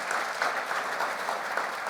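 Conference audience at a plenary session clapping, a dense, steady wash of applause at moderate distance, with no speech over it.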